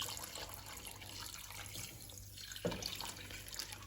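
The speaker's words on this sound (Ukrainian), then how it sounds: "Тепер сюди виливаю воду так, виливаємо нашу воду" Water pours from a vessel into sugar in a thick-bottomed bowl to make syrup for plum jam, a faint, steady liquid trickle throughout with a small clink near the end.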